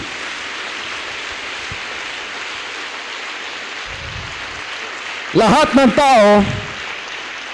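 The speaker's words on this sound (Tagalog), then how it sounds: "Palakpak nga niyong kamay ninyo" A church congregation applauds steadily, a dense wash of hand claps filling the room at a sermon, before a voice cuts in near the end.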